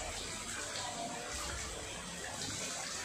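Rainwater runs steadily through a street drain during heavy rain, a continuous rushing wash of water that stays even and fairly close with no breaks.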